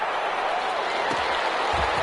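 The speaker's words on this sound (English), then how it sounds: "How about some applause for the defense there?" Crowd applause and cheering from an American football video game on PS4, a steady broadband roar of clapping filling the whole stretch at moderate loudness, with a couple of low thumps near the end.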